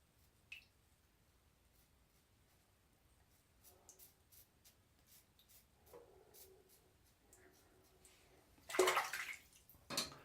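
Water splashing and squishing on lathered hands while washing with Dr. Bronner's peppermint pure castile soap, quiet soft wet rubbing that builds to a louder splashy burst near the end.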